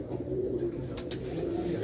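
Pigeons, among them a white hen, coo softly at close range in a loft, with a steady low murmur throughout and a couple of brief brighter sounds near the middle.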